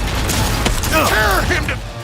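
A gun being reloaded in the video game Cyberpunk 2077, a short run of close mechanical clicks and clacks over steady game noise, with a voice speaking briefly.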